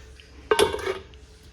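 A lid set down on a metal cooking pot of egg curry in a home kitchen, one close clatter with a short metallic ring and a few smaller knocks as it settles.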